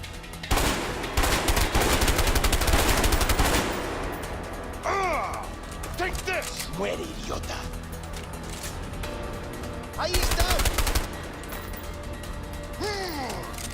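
Gunfire in the video game A Way Out: dense bursts of rapid automatic shots at the start and again near ten seconds, with quieter scattered noise, some voice and game sounds between the volleys.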